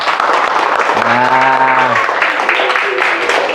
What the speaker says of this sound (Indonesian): Tepuk 4. Tepuk yang banyak.